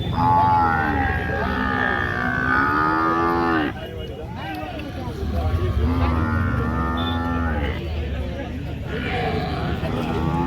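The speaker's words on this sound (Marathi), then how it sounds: "मित्रांनो अशा पद्धतीने आपण मुरा जातीच्या म्हशी पाहतोय." Murrah buffaloes at a Kashti buffalo market give long, deep, drawn-out lows, two calls close by and loud over a murmur of people talking.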